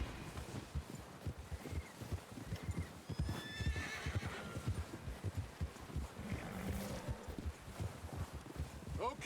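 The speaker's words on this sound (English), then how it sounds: "Get your horses ready." Horses gallop and neigh in the Red Dead Redemption 2 video game as a gang rides out to rob a train. Rapid, rhythmic hoofbeats run throughout, with a couple of whinnies and faint voices in the mix.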